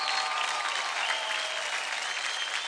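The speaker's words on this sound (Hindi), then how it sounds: "जोरदार तालियां हो जाए" Loud, dense applause from a dance-show studio audience, steady and sustained throughout with no gaps.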